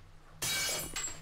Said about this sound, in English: You're smashing windows.